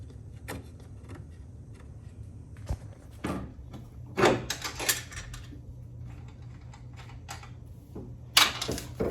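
Metallic clinks and clanks from removing the last strut bolt during a BC Racing BR series coilover install on a 3G Mitsubishi Eclipse, scattered sharp knocks over a quiet garage hum, with no talk.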